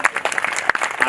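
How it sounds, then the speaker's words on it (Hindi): An audience claps at an Arya Samaj temple Ram Navami festival in Agra, a brief burst of fairly close, loud applause with distinct individual claps and voices mixed in. "एक बार तालियां जोड़ें।"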